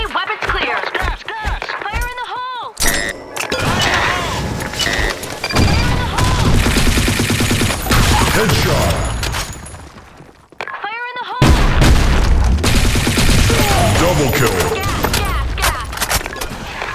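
Rapid gunfire from the BlackShot shooter game on the Sand Storm map: loud bursts and single shots pile up, with short pauses, under game announcer voices and other effects.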